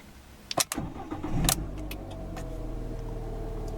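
A Fiat 500 Sport 1.2 with about 43,500 km cranks with a couple of sharp clicks, catches and settles into a steady, close idle with no talk.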